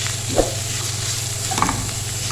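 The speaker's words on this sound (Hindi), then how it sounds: "और इसको हम भूनेंगे अदरक लहसुन के साथ।" Minced meat fries in a pan with ginger and garlic, a constant close sizzle with an electrical hum beneath and a couple of soft scrapes as it is stirred.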